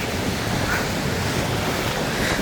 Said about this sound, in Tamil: இங்கால வந்து கடற்கரை அலைய பாருங்க ஐயா எப்படி இருக்கேன்ட்டு